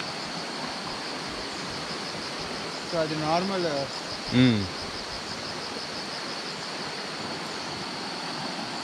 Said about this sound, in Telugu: వాటర్ ఫ్లో సూపర్ ఉంది ఇక్కడ.